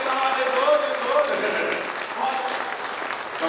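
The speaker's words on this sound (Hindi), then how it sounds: "ताली बजाओ मिलके सारे जोर जोर।" An audience at a Hindi poetry recital applauds, with steady, dense clapping holding at an even level throughout, alone with no voice over it.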